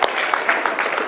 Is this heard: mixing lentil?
no